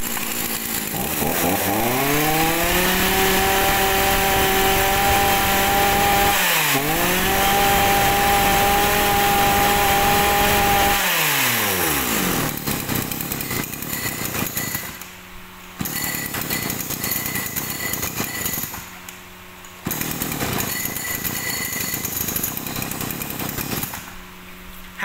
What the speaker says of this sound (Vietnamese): H1 của này là con cưa Shinewa 1038 nha anh em, đời Shinewa số 4 số ha, đời mới á.